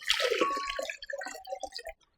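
Water pours into a blender for a Jamaican hominy corn porridge with coconut, a close, fairly loud splashing pour for about a second that thins into irregular dripping and trickling before stopping.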